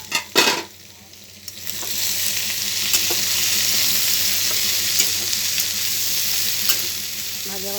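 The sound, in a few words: pumpkin and potato frying in a pan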